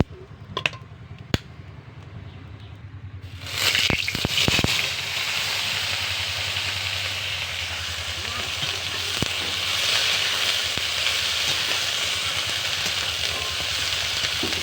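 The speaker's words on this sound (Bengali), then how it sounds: "এবার বেগুনটা আমি ভালো করে আগে ভেজে নেব।" Eggplant frying in hot oil with a Bengali five-spice tempering: a quiet start with a few sharp clicks, then a sudden loud burst of sizzling that settles into a continuous, close hiss.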